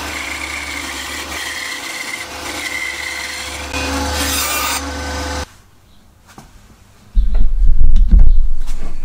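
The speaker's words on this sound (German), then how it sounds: "Da müssen wir jetzt 9 mm vorhersägen." A table saw fitted with a featherboard makes a 9 mm pre-cut in wood, giving a loud, steady whine for about five seconds. It then cuts off to near silence before a heavy, rumbling burst of the running saw returns.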